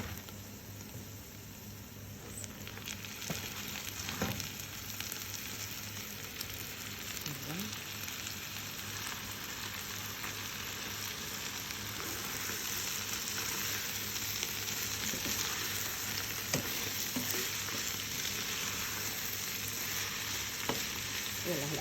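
Spinach goes into a pan of frying meat and onion, and a steady loud sizzle builds and holds, with occasional stirring clinks over the continuous frying hiss.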